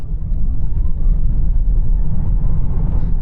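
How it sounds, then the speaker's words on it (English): A Tesla Model 3 Performance accelerates flat out from 0 to 60 in track mode with neutral handling balance, a loud, steady low rumble of road and drivetrain noise heard close from inside the cabin, with no talking. "See how quick it takes to go from 0 to 60 in neutral handling balance."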